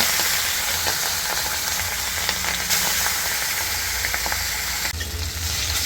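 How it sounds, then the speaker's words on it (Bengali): Steady, loud sizzling of small hilsa fish frying in hot oil in a wok, a continuous crackling hiss with occasional pops and stirring sounds. "কড়াইয়ে তেল দিয়ে অর্ধেক মাছগুলো ছেড়ে দিলাম, দিয়ে আগে একটু ভেজে নিব।"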